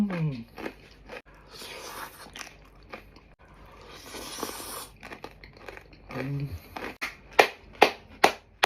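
Someone bites into crispy otak-otak topped with mayonnaise and bolognese, giving several loud, sharp crunches close to the microphone toward the end after stretches of talking and chewing.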